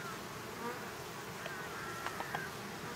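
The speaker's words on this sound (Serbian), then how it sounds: "Možemo reći da ovde pčele rade kao lude." Honeybees buzzing at a busy beehive on three boxes near sunflower fields, a faint continuous hum with a few individual bees droning closer past the ear.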